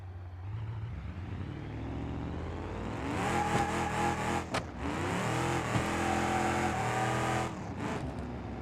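Ramp truck engine in the BeamNG.drive video game, idling low then revving hard as it accelerates, a loud, close, sustained roar with shifting pitch and a brief cut-out midway.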